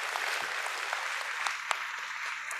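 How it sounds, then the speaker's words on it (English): Audience applause at a meditation conference, a steady broadband patter of many hands with a few sharper claps standing out, moderately loud and continuous with no talk over it. "Vous pouvez l'applaudir."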